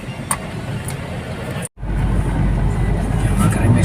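Busy street traffic on Tomas Morato, with a steady rumble of car and engine noise passing close by, briefly cut off by a moment of silence before resuming louder and heavier.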